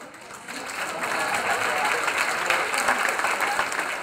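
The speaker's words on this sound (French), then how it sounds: "les néophytes fraîchement baptisés sont applaudis et accueillis par toute la salle" A room full of people applauds newly baptized neophytes at a confirmation gathering, sustained, even clapping that swells after a quieter start, with some voices underneath.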